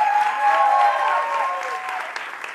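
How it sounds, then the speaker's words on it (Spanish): A crowd claps steadily, a dense patter of applause that slowly fades. A high, sustained tone rings out over it. "Fuerte el aplauso para Leo García."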